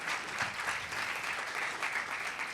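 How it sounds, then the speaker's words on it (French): A crowd applauds itself at the opening of the third edition of an event, a steady, dense wash of clapping that holds evenly throughout without a break. "Merci de vous applaudir."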